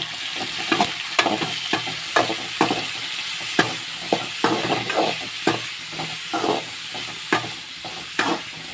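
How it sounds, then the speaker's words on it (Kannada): Sliced onion and green chillies frying in a pan, a continuous close sizzle broken by frequent rhythmic stirring scrapes and taps of a spoon, with no voices. "ನೀರುಳ್ಳಿ ಪಾಡ್ಗ ಅಂಚನೆ ಕಾಯಿ ಮೆಣಸು ಪಾಡ್ಗ ಒಂದೊಂದು ಫ್ರೈ ಆಗೋದು"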